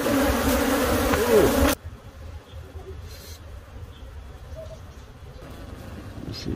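Bees buzz around a compost bin while a beekeeper rescues them. A loud, close swarm drone comes first, then drops to a lower, steadier hum with scattered nearer buzzes.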